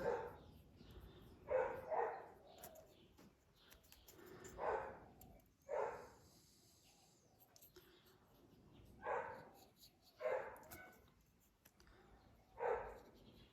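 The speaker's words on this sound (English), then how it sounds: "Sorry about the dog barking, it's not my dog," A neighbour's dog barks repeatedly in short bursts of several yaps, mid-distance, in an indoor room where a person talks intermittently between barks.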